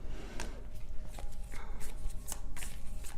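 Tarot cards being shuffled by hand, with quick, soft riffling and snapping bursts repeating close by over about three seconds.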